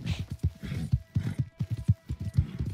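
Horse hooves in the video game Red Dead Online: a rapid, rhythmic galloping clip-clop, close and fairly loud, steady throughout with no talking.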